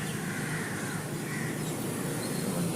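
Crows caw faintly over a dense, steady wash of outdoor noise, with many birds seeming to call at once from a distance.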